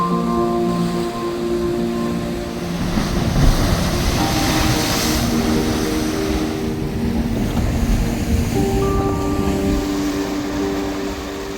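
Ocean water washes in against a seawall by a rocky coastal path, a steady loud rush of surging water and wind with a low rumble running throughout, close and continuous with no voices.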